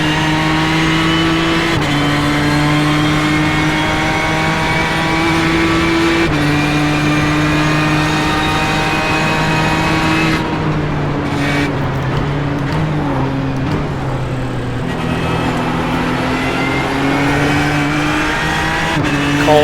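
Loud, close engine drone from race cars in an iRacing sim at the Roush Performance All-Star Invitational, shifting through gears as they pull away on cold tires, with other cars roaring nearby and no speech.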